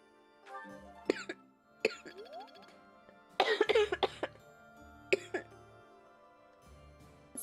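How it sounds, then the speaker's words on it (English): A person with a lingering post-COVID cough gives several short, squeaky coughs and throat sounds at irregular intervals, close and fairly faint, with a brief burst of sound in the middle. "every once in a while I get this cough that sounds like a fucking squeaky toy"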